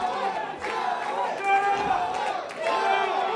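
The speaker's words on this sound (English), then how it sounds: "What a crowd here this week again, huh?" Crowd at a live wrestling event cheering and yelling, a dense roar of many voices with scattered shouts rising and falling throughout.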